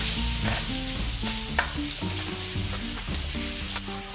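Kachori stuffing fries in a pan over a low flame while it is stirred and mixed, producing a loud continuous sizzle close up with repeated scraping strokes and a steady hum underneath.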